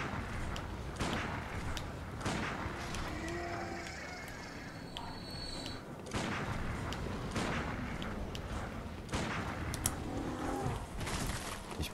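Gunfire from a firearm in the Bloodborne video game: several sharp, heavy booming shots spaced a few seconds apart over steady in-game ambience.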